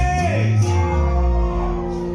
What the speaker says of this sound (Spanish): A ver otra vez ese grito de las mujeres.